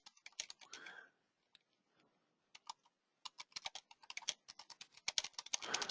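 Typing on a computer keyboard, with rapid irregular bursts of close keystroke clicks separated by brief pauses, growing denser toward the end, with no voices.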